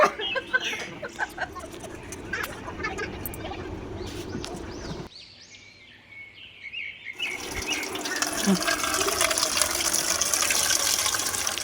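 Water pours and splashes steadily into a wide cooking pot, with a brief quieter gap before the flow grows louder and fuller; faint chirps in the background.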